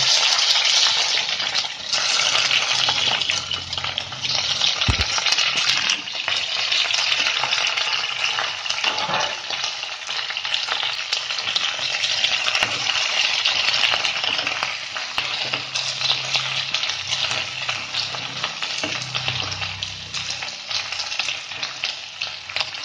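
Cubed onion and capsicum fry in oil with a little garlic in a pan, giving a loud, steady crackling sizzle throughout, with one sharp knock and occasional soft stirring beneath it.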